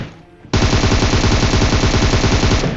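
A PUBG game scene begins with a faint lull, then a sudden, loud burst of continuous automatic gunfire hammers on without a break, close and dense, with no talking.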